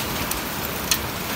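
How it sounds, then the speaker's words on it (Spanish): Heavy rainstorm with hail pours down outdoors where electricians work on cables, a dense, loud, continuous hiss of rain with a few sharp impact ticks. "Imagínense con el gran tormentón que está cayendo"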